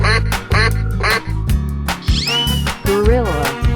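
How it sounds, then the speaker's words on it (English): A cartoonish duck quacks repeatedly in a 3D animal video game, loud bursts over continuous upbeat game music with some sliding tones. "duck,"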